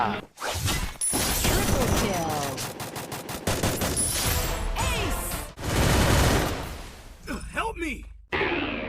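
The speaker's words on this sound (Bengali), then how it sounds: "চালা গুলি চালাও। ভিতর পিস্তলে কত গুলি আছে, চালাও চালা গুলি।" Rapid gunfire bursts from a Free Fire video game match, loud and dense throughout with short gaps, layered with game sound effects and talk.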